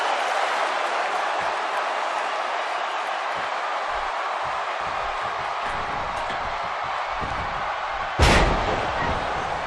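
Wrestling crowd from the video game WWE 2K17 during a Big Show vs. Finn Bálor match: a dense, continuous roar of cheering fills the whole stretch, broken near the end by one loud slam.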